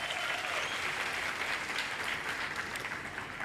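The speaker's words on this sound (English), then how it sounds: "Can we kindly give him a round of applause again?" Audience applauds at a pharmacy and health care sciences oath-taking ceremony, a steady dense clapping of a large crowd filling the hall without pause.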